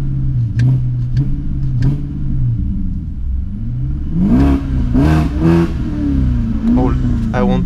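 BMW 745i E65 V8 with a cut-off valve installed, revving loud and close in a few rising and falling pulls, deep rumbling tone with sharper surges later, while someone talks over it.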